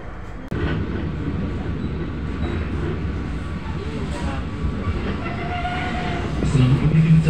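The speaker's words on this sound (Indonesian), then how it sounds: "Kereta api Joglo Semar Kertung tiba di stasiun Berumbung." Joglo Semar Kedung passenger train arriving at an Indonesian railway station, a steady loud rumble of rolling wagons with clattering wheels, starting abruptly and swelling toward the end, with a tonal squeal near the close.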